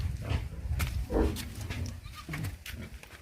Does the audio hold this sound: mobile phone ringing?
no